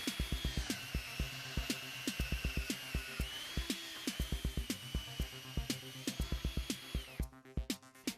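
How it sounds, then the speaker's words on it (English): A power drill with a 16mm auger bit boring a series of holes into a wooden door, producing a steady high whine over rapid regular thumping pulses, close and loud, ending abruptly. "Then make a series of drill holes along the line."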